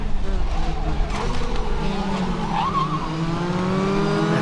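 Race cars at Zwartkops Raceway brake late into a corner during a National Extreme Festival round, with loud engine drone falling in pitch and a brief tire squeal, under continuous commentary.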